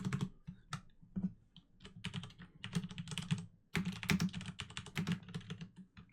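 Rapid typing on a computer keyboard while coding a multiplayer Unity game, with dense, irregular clusters of close key clicks and a brief pause near the middle, no talk.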